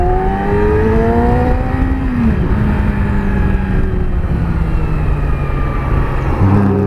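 A 2017 Yamaha R6 sport motorcycle engine revs hard and continuously, its pitch climbing and dropping through gear changes, loud and close up throughout with no talk.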